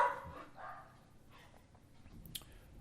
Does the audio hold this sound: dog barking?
yes